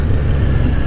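A stock-pipe Kawasaki Z900 SE motorcycle engine roars in a loud, steady, close rumble with a dense low-end growl that holds through the whole short burst.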